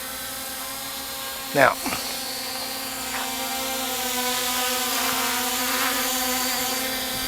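A JJRC JJPRO X5 EPIK drone hovers with a steady, droning whine of spinning rotors that holds unbroken throughout, with a brief word spoken near the start.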